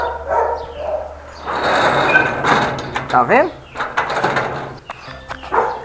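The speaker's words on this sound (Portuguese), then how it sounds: "Acho que é os cachorros." Dogs barking on a street, sharp yelps and barks scattered among a person's excited talk, with background street noise.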